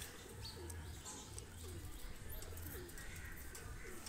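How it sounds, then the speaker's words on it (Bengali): A pair of golden running pigeons coo softly, with repeated low throaty coos at a steady rhythm and a few light chirps over quiet background noise. "এক পেয়ার গোল্ডেন কবুতর দেখেন"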